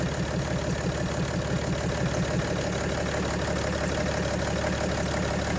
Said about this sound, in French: Mon moteur, il tourne un peu mieux.